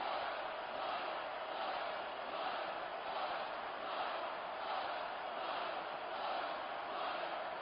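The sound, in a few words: crowd cheering in video game WWE SmackDown vs RAW 2006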